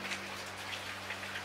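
Typhoon rain driven sideways by a strong east wind at an old farmhouse on the Kibi Plateau, Okayama, falling as a steady, fairly faint patter with soft drop ticks and a constant low hum beneath.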